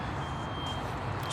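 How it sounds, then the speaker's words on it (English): Reversing beeps from nearby machinery sound as a steady faint high tone through the clip, over continuous engine and road rumble at a roadside stop where a car's bonnet is open. "I apologise for the beeping in the background."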